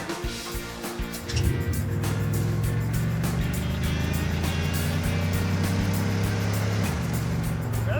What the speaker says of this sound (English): That's our best second gear shift of the day.